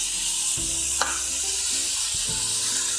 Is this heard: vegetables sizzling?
yes